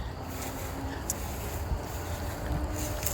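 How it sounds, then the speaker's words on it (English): Cool breeze on an outdoor October nature walk, heard as a steady low rumble of wind buffeting the microphone, with faint scattered rustles and no speech. "Relaxing in the cool breeze."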